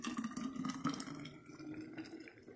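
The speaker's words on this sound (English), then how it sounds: "Pour it right in that jar." Homemade ginger and turmeric drink pours steadily into a jar, a continuous liquid trickle and splash heard up close with no talking.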